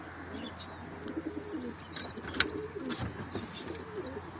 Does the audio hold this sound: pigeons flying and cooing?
yes